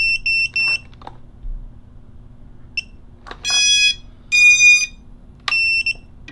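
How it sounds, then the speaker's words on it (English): The onboard buzzer of an Eachine Wizard 220s V2 quadcopter, working as a lost-quad finder alarm, sounds a few quick faint chirps and then louder, sharp, shrill beeps in separate bursts over a quiet background hum. "So now you have your lost quad finder alarm kind of thing"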